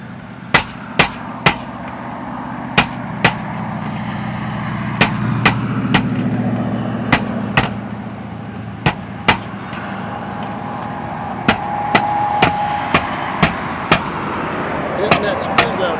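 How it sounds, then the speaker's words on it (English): Sharp metallic hammer strikes ring out repeatedly, some in quick clusters, driving a screwdriver through a metal roof, over a steady low engine rumble and faint background voices. "Using the hammer to drive that edge through."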